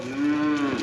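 A Hereford cow lets out one loud, close moo that swells and then tails off during loading onto a cattle trailer, with no talk over it.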